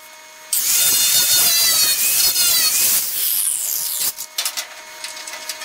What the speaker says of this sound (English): I need to grind that weld right there.